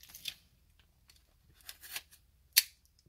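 Box seal on a Galaxy Buds Pro package being slit with scissors: several short snips and scrapes, with a sharper cut near the end, close and fairly quiet with no talking.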